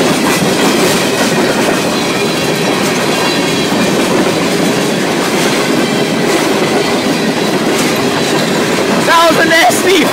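A CN freight train led by an SD40 locomotive rolls past close by, a loud continuous roar of wheels and clattering cars across the whole stretch.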